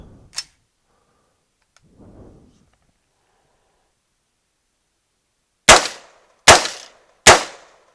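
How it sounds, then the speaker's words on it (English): Three sharp gunshots from a Bear Creek Arsenal 6.5 Grendel rifle ring out in quick, evenly spaced succession, loud and close, after a few faint clicks and handling noises. "Fired all 3 shots, bolt stayed back."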